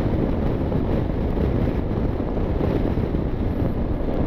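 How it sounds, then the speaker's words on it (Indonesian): Steady, loud wind roars and buffets the microphone throughout while touring on a motorcycle at around 60, gusts pushing from left and right, a continuous broadband rush with no talk. "Anginnya kencang banget teman-teman, tiup kiri tiup kanan"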